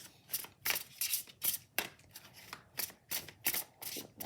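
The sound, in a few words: tarot cards being shuffled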